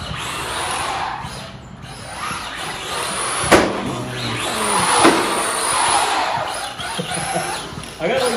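RC car tires on pavement, from an ARRMA Typhon 3S 4x4 and Traxxas Slash 2WD: whirring motor and tire scrub that swells and fades, with a couple of sharp squeals, under people talking.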